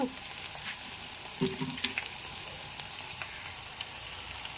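Fenugreek seeds crackle and sizzle steadily in hot oil as a pickle base for elephant foot yam, a continuous mid-level fry with a few brief stirring clinks and no talking.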